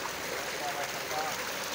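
Water pours steadily from a solar-powered tube well in a village, a constant faint rushing flow with no breaks.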